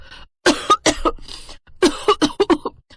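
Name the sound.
strong coughing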